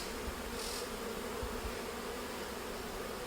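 Honeybees swarm over an opened beehive frame during old-comb replacement, giving a dense, steady close-up buzz that holds at one level throughout with no voices.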